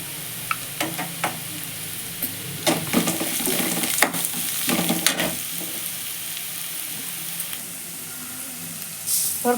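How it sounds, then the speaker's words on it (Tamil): Onions sautéing in oil with green chillies and a pinch of powdered asafoetida, a steady close sizzle broken by occasional sharp scrapes and clicks of a spoon stirring the pan. "இப்போ வெங்காயம் நல்லா வதங்கி தூள் பெருங்காயம் கொஞ்சமாக சேர்க்குறேன்"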